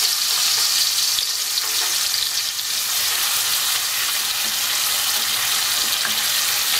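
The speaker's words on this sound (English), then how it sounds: "I have about 2 of these spoonfuls of the pork fat, to which I am going to add the caramelized onion and apple." Caramelized onion and apple sizzling in pork fat in a hot pan, a loud, steady crackling fry heard close and alone.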